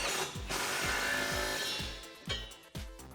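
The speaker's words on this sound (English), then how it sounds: "Grab your 18mm socket and tighten these down." A ratchet with an 18mm socket tightens body bolts on a Jeep Wrangler JK 4-door while rock sliders are installed, giving rapid repeated pawl clicks in bursts, close and loud, with a few sharper knocks near the end.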